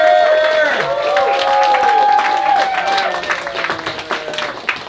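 At a New York poetry reading, the audience keeps applauding a poet, with loud clapping under overlapping voices that gradually thins and fades toward the end.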